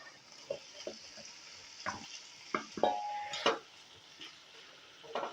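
Fried paneer cubes drop into a pan of capsicum and green chillies, setting off a soft steady sizzle broken by a few scraping stirs and light clinks of utensil against pan.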